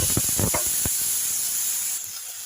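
Chili mixture hitting hot oil with garlic and curry leaves for a potato fry, giving a loud steady sizzling hiss with a few sharp crackles early on, easing slightly toward the end.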